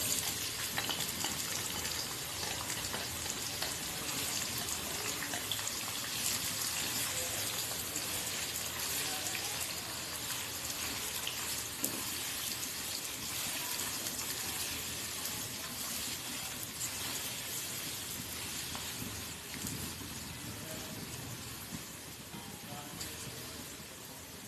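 Chopped onions fry in hot oil with whole garam masala for a liver and kidney curry, giving a steady, dense sizzle that hisses evenly and close throughout, with no talk over it.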